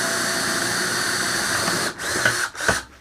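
An electric drill whines steadily as it bores holes in a homemade muskrat funnel trap, then cuts off and gives two short, sharp bursts before stopping, close and loud with no voices.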